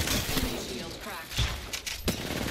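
Gunfire in the Apex Legends battle royale game as a solo player comes under attack, with bursts of shots and thuds scattered through the clip, loud and close, with other game sounds and some voice overlapping.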